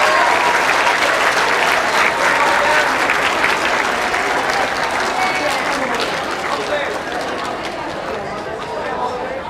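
A large audience at a Central Middle School 8th grade promotion ceremony in the Blue Water Convention Center claps steadily for parents and family, a full dense wash of applause that fades slightly toward the end.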